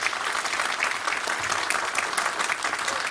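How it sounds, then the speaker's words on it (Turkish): Steady applause from an assembled crowd at a drivers' chamber general assembly in Erdek, dense continuous clapping filling the room at even loudness with no pauses. "Bana iyi bir alkış."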